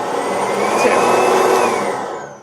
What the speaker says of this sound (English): I think you'll really like this bagged upright vacuum